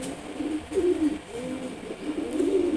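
Soft, throaty cooing from a Silver Gorra pigeon pair, heard up close in a few rising-and-falling bursts with short pauses between them, against a faint room hiss.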